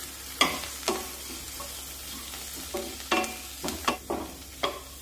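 Chopped coriander being sautéed into a peanut and green chilli chutney masala, with a spoon scraping and stirring the pan in a few separate strokes over a soft background, no talk.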